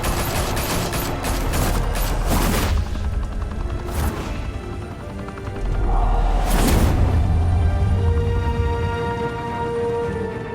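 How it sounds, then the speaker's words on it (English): Gunfire erupts in the Batman Telltale video game, with dense bursts of rapid shots and booms in the opening seconds, then another heavy volley around the middle, loud and close over a rumbling backdrop. "Open fire!"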